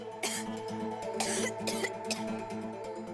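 Repeated coughing and throat clearing attributed to dust stirred up while cleaning furniture and a cupboard, several harsh bursts close by over a steady background hum.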